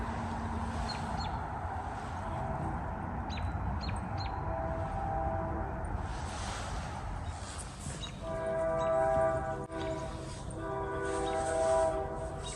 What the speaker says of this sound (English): Now here's another K3L horn that I heard blowing not that far away from here.